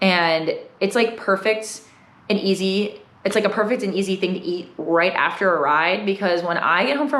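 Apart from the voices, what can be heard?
No everyday noise stands out behind the speech.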